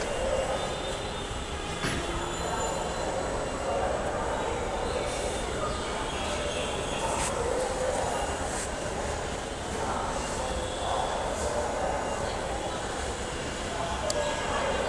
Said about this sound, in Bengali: মেট্রো রেল স্টেশন ঢাকা বিশ্ববিদ্যালয় প্ল্যাটফর্ম